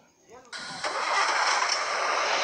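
A DAF truck engine cranks briefly, then catches and settles into a steady, loud rumble close by, with low talk audible in the background.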